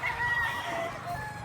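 A Roundhead gamefowl rooster, a Boston or Allen Roundhead, gives a close, clear crowing call lasting over a second against low background noise.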